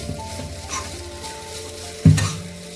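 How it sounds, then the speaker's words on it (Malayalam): Grated coconut roasting dry in a pan for kappa biryani, a soft steady stir-and-sizzle texture with a sharper scrape of spoon against the pan near the end. "അപ്പോൾ നമ്മുടെ തേങ്ങ ഒന്ന് വറുത്തെടുക്കാം"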